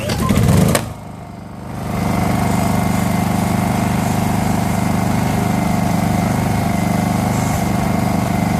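A Honda EU2000i portable inverter generator is hot-started with a brief loud pull, then settles into a steady, fairly quiet engine drone that holds at a constant level close by.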